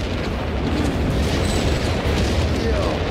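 Dense, roaring blasts from an air strike in the strategy game Company of Heroes 3 run together into one loud, continuous rumble of explosions with no gaps.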